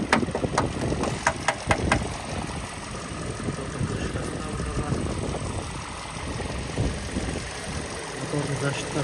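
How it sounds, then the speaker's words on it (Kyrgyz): A 2017 Kia Optima with a 2-litre engine idles with a steady low hum, heard up close, while people talk over it and a few sharp knocks sound near the start. "Мотору жакшы иштеп турат анда"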